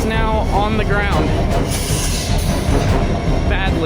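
A train running into a defective rail car and derailing onto the ground, with loud continuous rumbling, metallic rattling and squealing wheels, and excited voices calling out over the noise.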